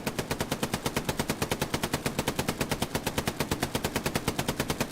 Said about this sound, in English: At the moment we have an MG fight.